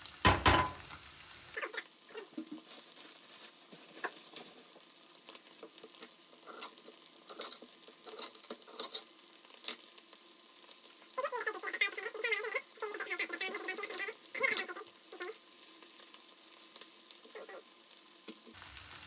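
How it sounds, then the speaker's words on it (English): Coconut curry sizzles and fries steadily in a hot pan, a continuous close crackle with a sharp initial burst and brighter, busier frying patches midway, with no talk. "So now we're going to start cooking the coconut curry in this."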